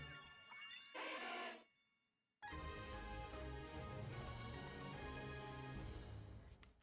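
A Ko-Fi notification chime rings out as a bright, tinkling ding, cutting off briefly before a sustained, layered jingle resumes and carries on steadily to the end.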